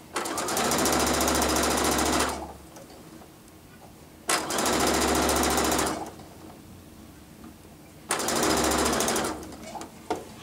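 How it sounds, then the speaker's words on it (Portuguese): Three loud bursts of a sewing machine stitching fabric with a continuous seam, each running a couple of seconds with a fast steady hum and rattle, separated by quieter pauses. "Vou ir costurando até faltar 2 dedos, eu arremato minha costura."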